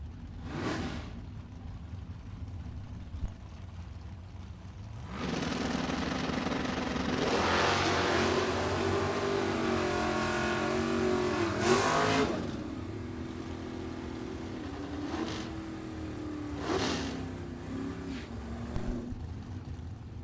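Drag racing cars, a 1969 Nova with a 471 and a 1991 Mustang with a 393 small block, launch with a loud sustained engine roar that swells and revs for several seconds, then trailing bursts as they pass at the strip.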